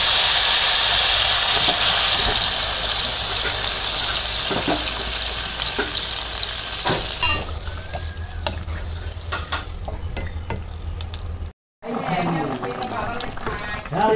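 Water is splashed into tomato masala frying in a pan. A loud, bright sizzle and hiss fills the first half, then drops to a softer bubbling simmer with stirring scrapes and brief talk.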